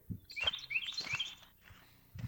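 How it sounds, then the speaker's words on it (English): Birds chirp outdoors in quick, thin bursts scattered across a short stretch, fairly faint and a little distant, with soft rustling or steps beneath and no talking. "Even the birds are happy."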